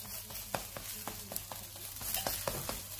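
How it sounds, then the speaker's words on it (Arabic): Brick-pastry tacos browning in oil in a pan give a continuous low sizzle, broken by small crackling pops and light taps at irregular intervals. "نخليوها تحمر على خاطرها"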